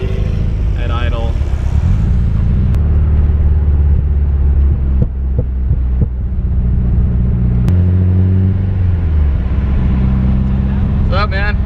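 Built SR20DET engine in a Nissan 240SX idling during break-in, a steady deep rumble with a slight uneven lope, close and loud, while people talk briefly over it.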